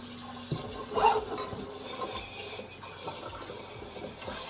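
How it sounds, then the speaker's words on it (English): Water is poured into an Instant Pot, a brief splashing pour followed by steady running and sloshing, close and moderately loud with small clunks of handling. "I'm gonna dump it all back in the Instapot. Add some water."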